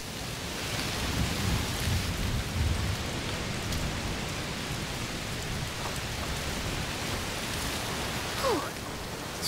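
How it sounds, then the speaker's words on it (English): Steady heavy rain pours throughout with low rumbles of thunder in a video game, a continuous wash of noise with a brief sharp sound near the end. "Raining a lot? Yes. Must be a heat storm."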